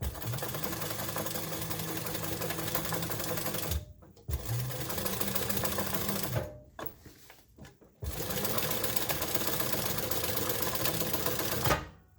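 A sewing machine stitching a back band runs in steady rapid bursts, with two short pauses where the motor stops and restarts, close and continuous throughout.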